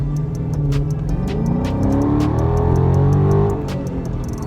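A Dodge Charger SRT 392 engine revs up and accelerates, rising in pitch as it pulls hard, with a rough, powerful rumble close by.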